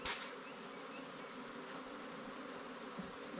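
A swarm of honeybees buzzes right around the face, a dense, continuous close hum with individual bees passing near, no voices.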